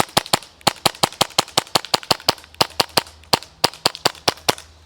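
An airsoft gas blowback rifle with an upgraded lower fires a steady string of sharp, close cracking shots in quick succession, each with a snappy report, with only a brief pause midway.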